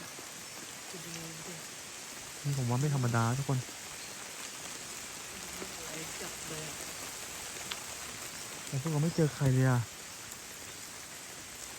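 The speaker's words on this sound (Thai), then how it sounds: "แล้วฝนที่ตกดูน่ากลัวมากเลย" Steady rain falling in a forest, a constant soft hiss filling the background throughout while someone talks briefly twice over it.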